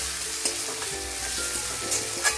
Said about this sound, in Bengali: এখন অ্যাড করে দেবো কেটে রাখা কাঁচা লঙ্কা আর টমেটো। এটা দিয়ে ভালো করে কষিয়ে নেবো।